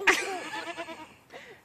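A goat bleats up close with a wavering, nasal cry, followed by a shorter second bleat after a brief pause, with no talking over it.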